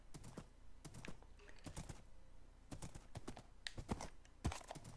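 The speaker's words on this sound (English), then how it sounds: "Should be able to drive my horse up there." Horse hoofbeats clatter in quick, uneven bursts as a saddled horse is ridden across open ground in Minecraft, the game's clip-clop steps loud and close with no talking over them.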